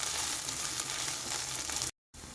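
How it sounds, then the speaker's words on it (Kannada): Chopped ginger and garlic sizzle and fry in a pan for a restaurant-style mushroom masala, a steady close hiss of hot oil that cuts off abruptly before resuming, with no talk. "ಅಲ್ಲಿವರೆಗೂ ಫ್ರೈ ಮಾಡ್ಕೊಳ್ಳೋಣ"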